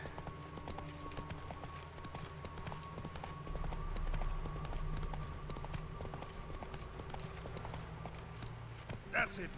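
Hooves of Roach, a horse in The Witcher 3, clip-clop in a steady, quiet trotting rhythm under game ambience and occasional talk, ending with a brief louder sound.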